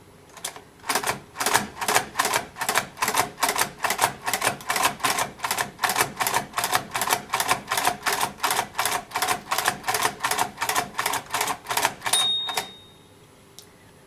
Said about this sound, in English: press very firmly all 6 keys together and keep doing it until the bell rings at the right hand edge